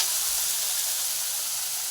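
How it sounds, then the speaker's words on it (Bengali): Sliced bitter gourd (uchhe) frying in oil in a home kitchen pan gives a steady, close, bright sizzle with a soft hiss throughout, and nobody speaks. "উস্তেটাই ভাজছি।"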